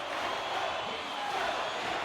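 Crowd noise at a tied hockey game between the Hartford Whalers and Halifax Stampeders, a steady, dense roar of fans that holds at an even level throughout, with no distinct peaks or breaks.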